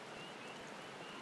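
A continuous wash of falling rain in Final Fantasy XIV: Dawntrail, an even, faint hiss with no distinct drops or voices.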